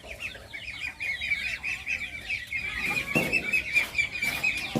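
Farm chickens cluck steadily at a middle distance, with overlapping calls forming a continuous busy backdrop and a short louder burst of activity partway through.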